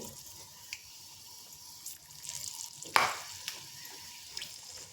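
Cashews, almonds and pistachios roast gently in plenty of ghee, giving a soft steady sizzle with occasional light scrapes and clinks of the stirring spoon, close and fairly quiet, no voices.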